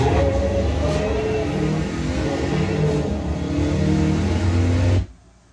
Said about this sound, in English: We've made tires squeal on dirt